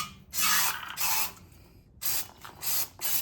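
Brake cleaner sprayed onto the rear brake parts of a 2015-2022 Chevy Colorado or GMC Canyon, with a drip pan set underneath. Five loud, close hissing bursts come in a steady rhythm, each lasting about half a second and separated by short pauses.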